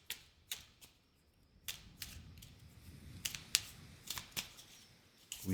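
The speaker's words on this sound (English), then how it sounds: "let me shuffle the enchantment deck" A deck of enchantment cards for a tabletop adventure game being shuffled, a series of quick, crisp riffling snaps and taps in irregular bursts, close and fairly quiet.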